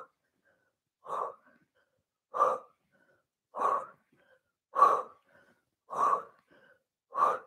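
Six strong breaths spaced about 1.2 seconds apart during a Pilates crisscross core exercise on a mat, each a loud, close, breathy exhale with short silences between.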